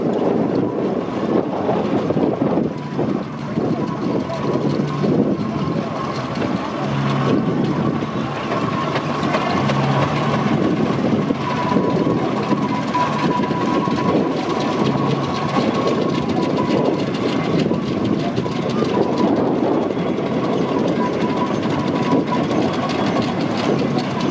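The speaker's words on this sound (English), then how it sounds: "Machine going through there, the 1888 Richard Hornby and Sons general purpose engine." An 1888 Richard Hornby and Sons general purpose steam engine rolls past at a steam rally in Masham, a steady loud mechanical rumble and chuffing drone held for the whole stretch with no talk.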